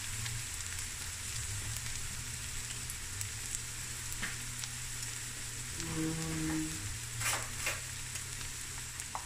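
Cardamom pods and a cinnamon stick sizzle in hot oil in a pan, a soft, steady frying hiss with a few faint clinks and stirring scrapes, and no voices.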